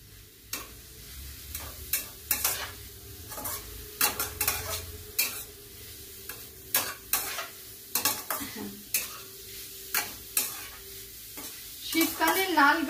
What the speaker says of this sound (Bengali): এবার নাড়ছি।